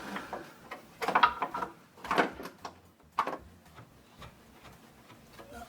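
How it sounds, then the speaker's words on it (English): A bolt is threaded by hand into the differential of a Mercedes W204, a Quaife limited-slip unit, producing a few close, sharp metallic clicks and clinks in short bursts against a quiet workshop background. "let's see if I can get this bolt here started"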